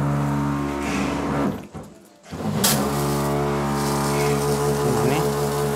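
A dual-spray water pump for a vertical garden box starts up outdoors, giving a steady loud motor hum with strong tonal harmonics that cuts out briefly and then resumes at full strength.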